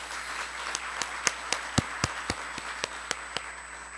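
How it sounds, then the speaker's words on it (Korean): Steady, evenly spaced hand claps ring out at a ceremony launching a small and venture business finance committee, sparse and fairly near rather than a dense ovation, with no talk over them. "우리 큰 박수로 격려했으면 좋겠습니다."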